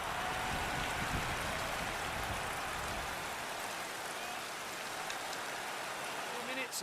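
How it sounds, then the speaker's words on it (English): Heavy rain pours over the soaked Le Mans circuit in the MotoGP 20 game, a dense, steady hiss close by that eases slightly midway, with a few faint taps near the end. "the track is completely soaked from the rain that shows no signs of letting up"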